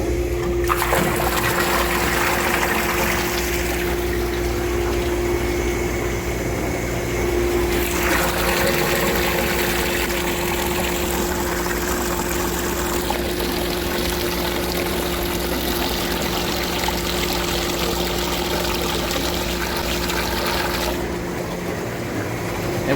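Maple sap is pumped from a bulk tank into a head tank. The pump hums steadily and loudly, with rushing liquid over a constant motor drone that continues without break, and no speech.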